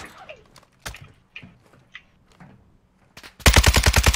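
DMZ video game gunfire: scattered single shots crack early, then a loud sustained burst of rapid automatic fire, about ten evenly spaced rounds, closes the clip close up with no talk.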